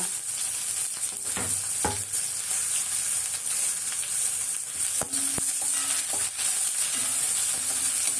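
Onions and curry leaves fry in a pan, giving a continuous bright sizzle, with a few sharp clinks and scrapes as a spoon stirs them and no one speaking.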